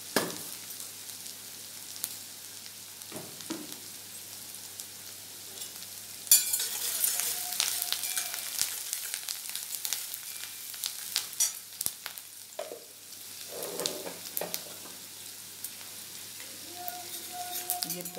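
Onion and spices frying in a pan, with a soft sizzle that swells louder after stirring, a few scraping stirs and clinks over steady frying, nearby and without talk.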